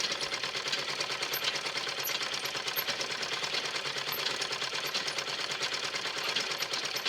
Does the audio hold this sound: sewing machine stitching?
yes